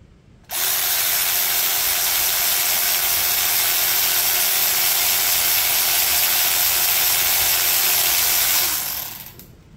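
A DCK KDPB02-10 cordless ratchet wrench runs free at full speed, a loud, steady high-pitched whir lasting about nine seconds with no talk, then spinning down at the end.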